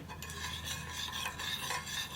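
A spoon stirs a lemon mixture in a kitchen, making a continuous close scraping and rubbing sound in a loose, repeated rhythm with no talk.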